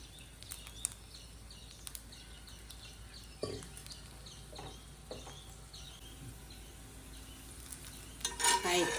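Rice rotti frying in oil on a pan gives a soft, steady sizzle, broken by a few sharp clinks and scrapes of a utensil against the pan, all fairly quiet and close.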